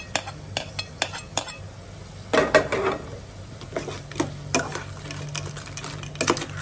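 Ginger garlic paste goes into crab curry in a pan, with a run of sharp spoon clinks against the metal, a burst of sizzling and scraping as it is stirred in, then more taps on the rim.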